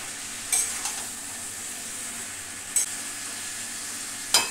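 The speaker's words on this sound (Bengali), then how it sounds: "কপিগুলো দিয়ে ওই মশলার ভিতর কষিয়ে দিচ্ছি কপিগুলো" Cabbage fried in spice masala in a pan at home, a steady soft sizzle with a few brief scraping stir strokes, close and fairly quiet.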